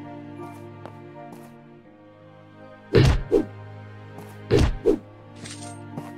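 Wooden boxes being smashed in My Time at Portia: two pairs of loud, sharp whacking impacts over a quiet background hum, each hit followed quickly by a second.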